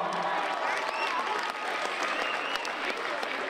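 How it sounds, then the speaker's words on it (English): An audience at a St. Baldrick's Day fundraiser gives a big round of applause to a team, a full, even roar of clapping throughout with some cheering voices mixed in. "Give these guys a big round of applause for that"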